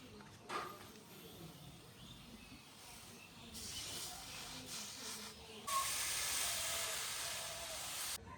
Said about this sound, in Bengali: এই গাছে কিন্তু আমরা এখন আমাদের বিষটি স্প্রে করতে হবে